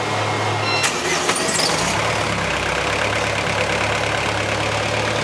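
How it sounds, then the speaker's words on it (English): A sailing yacht's onboard engine, remote-started from the deck, turns over and settles into a steady low idle that hums on without a break, with a few clanks near the start. "So the girls on deck are going to fire up the engine."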